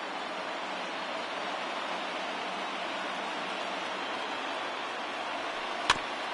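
A large baseball stadium crowd in MLB The Show 20 cheering, a dense steady roar from a distance throughout, with one sharp crack near the end.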